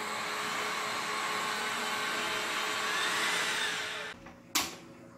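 An LG CordZero A9 cordless vacuum cleaner, just reassembled after cleaning, runs with a steady, loud whirring hum, then switches off near the end, followed by a sharp click.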